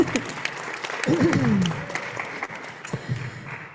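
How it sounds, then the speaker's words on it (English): Scattered audience applause at a school board meeting, a brief ripple of clapping mixed with voices and light chatter in the room. "Sure, you can clap."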